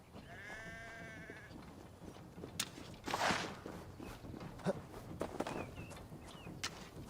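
One high, quavering sheep bleat comes early in the video game Assassin's Creed Valhalla, followed by footsteps and shuffling movement with scattered clicks, fairly faint throughout.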